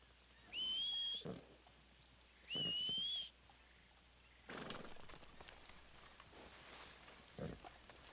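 Two short, high whistling tones like a horse's call in Red Dead Redemption 2, followed by rustling hoofbeats and shuffling, fairly quiet overall.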